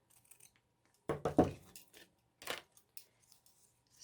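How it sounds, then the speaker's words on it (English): Pinking shears cut through fabric in a few close, crisp snips clustered together, followed by one more cut after a short pause, with quiet handling noise between. "I really like using my pinking shears because I think it just gives it a fun little edge. And we're going to cut this right about here."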